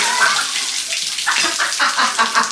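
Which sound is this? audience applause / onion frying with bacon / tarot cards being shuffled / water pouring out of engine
water pouring out of engine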